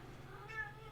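A cat gives a single short meow, moderately close and fairly faint, over a low background hum with no talking.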